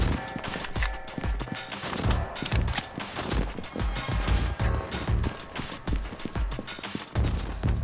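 Rapid gunfire in the video game A.W.O.L., dense bursts of sharp shots repeating steadily throughout with heavy low thumps, loud and continuous with no pauses.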